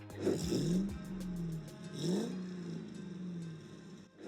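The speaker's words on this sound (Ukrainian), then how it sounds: "фантастичний звук, що лунає із вихлопної труби" A Batmobile concept car with a 5.5-litre V8 growls through its exhaust in two rising revs, each swelling then settling into a deep, fairly faint burble.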